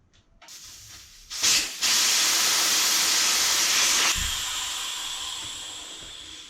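Air hisses sharply out of a motorcycle tyre valve as the valve core is unscrewed, starting with a brief burst and then a loud, steady rush. The hiss fades slightly over a few seconds before cutting off abruptly.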